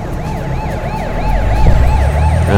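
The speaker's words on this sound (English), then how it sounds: "Ambulance. Someone's going home in an ambulance." Ambulance siren in the driving game American Truck Simulator, a loud wailing tone sweeping up and down at a quick steady rate over engine rumble, growing slightly louder toward the end.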